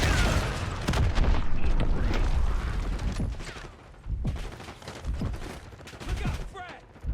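Rapid gunfire and heavy booms, including an RPG explosion, in Call of Duty Black Ops 6, with loud bursts of shots and blasts overlapping and then thinning out, and a player talking over them.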